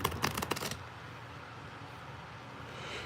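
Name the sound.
shuffling a deck of playing cards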